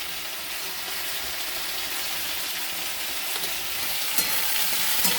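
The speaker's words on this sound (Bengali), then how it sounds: "ভাজা হবে আস্তে আস্তে।" Vegetables fry slowly in a pan with salt and turmeric over low heat, a steady soft sizzle that continues evenly throughout with no talking.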